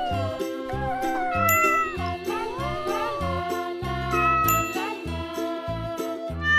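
An orange Angora cat in a cartoon drawing animation meows repeatedly in high, sliding cartoonish calls over a bouncy musical backing with tinkling chimes.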